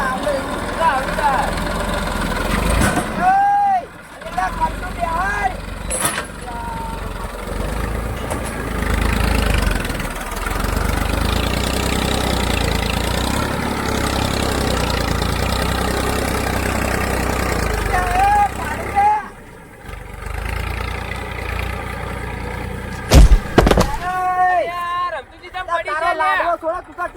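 A tractor engine idles and runs steadily at a moderate distance throughout, a low continuous rumble, while several people chatter and talk over it.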